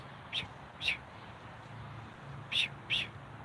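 Four short, bright bird chirps in two pairs, fairly faint over a steady low outdoor hum, with no talking.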